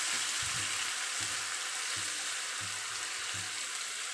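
Sliced onions and green chillies, split lengthwise, sizzle steadily in hot oil in a pan, a close hissing fry with a few soft low knocks from stirring and no voices.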